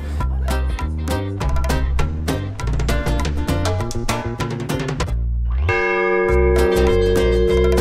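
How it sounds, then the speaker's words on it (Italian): Church bells peal in the cathedral bell tower in Alghero, heard up close and loud: rapid overlapping clangs for several seconds, then one long ringing strike that hums on. "Tra poco suoneranno pure le campane."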